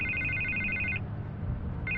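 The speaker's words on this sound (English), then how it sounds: "I can't get the phone to stop ringing." Telephone ringing in the Batman Telltale Series video game, an electronic trill for about a second, a short gap, then the ring starting again over a low background hum.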